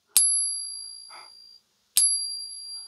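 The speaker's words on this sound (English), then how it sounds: "the cool thing about the pocket pinger, or just pinging coins in general" Silver Barber coin pinged on a pocket pinger, giving two bright metallic strikes each followed by a clear, sustained ringing tone that slowly fades, close and isolated.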